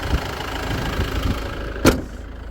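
A Kia Carnival engine runs at a steady idle, low and even, with a short sharp knock partway through.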